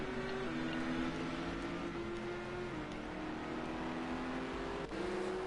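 A GT3 race car in a racing video game at Fuji accelerates under throttle, a steady mid-pitched engine drone with rising tones and a brief shift near the end, continuous and fairly faint.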